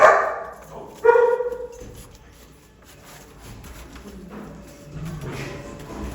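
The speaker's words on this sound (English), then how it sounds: "That's a cute dog right there." Rudy, a dog at the Anderson Humane shelter, lets out two loud, close barks in quick succession near the start, followed by quieter kennel noise and fainter background barking.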